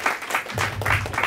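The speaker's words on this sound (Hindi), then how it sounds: "उनके लिए भी तालियां" Brief burst of audience applause after a song tribute at a family gathering, a few uneven swells of clapping with a voice talking over it.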